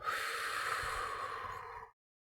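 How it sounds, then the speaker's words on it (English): A deep breath drawn in through the nose and released through the mouth, one long steady airy rush that then stops into silence. "take a nice deep inhale through your nose, just fill those lungs with air. Exhale through your mouth."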